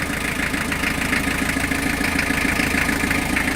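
A 100-year-old truck's engine idles steadily at close range, a continuous low, even rumble with a busy mechanical chatter and no break throughout.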